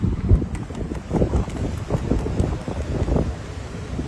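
Wind blows outdoors during kite flying, a gusty, rumbling rush buffeting the microphone for a few seconds, with no speech.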